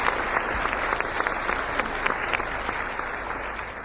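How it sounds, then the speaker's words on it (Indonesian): Congregation applause during a church sermon, steady dense clapping from a crowd with scattered sharper claps standing out, continuous through the clip. "Berikan tepuk tangan yang mereka"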